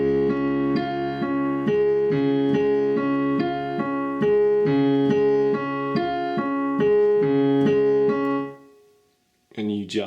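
Piano plays a repeating phrase from a song, with steady broken-chord notes in a regular pulse, close and clear, then stopping abruptly before a brief burst of another sound at the end.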